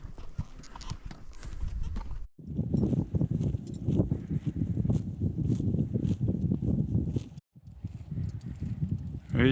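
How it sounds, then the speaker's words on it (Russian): Horses walking a trail back to their starting point in the Mongolian Altai mountains, giving a steady, close clip-clop of hooves that runs almost continuously, broken by two brief gaps, with a possible short whinny and faint voices in the background. "лошади по навигатору возвращаются на точку старта"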